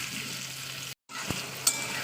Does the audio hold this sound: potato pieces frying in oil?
yes